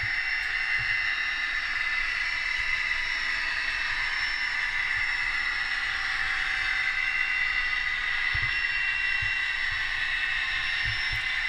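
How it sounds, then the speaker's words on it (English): A model railway locomotive hums and hisses continuously as it runs around a test track, with faint rail clicks at a steady, even level. "I'll let you listen to the sound of this locomotive for a few minutes"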